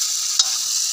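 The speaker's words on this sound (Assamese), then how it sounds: "ফাইনেলি এয়া কেৰাহীত মাংস দি দিলোঁ পূৰা এইপিনে দেৱই লৰাই আছে" Meat frying in a karahi while it is stirred: a loud, steady hiss of hot oil with one brief scrape of the spoon, and no voices.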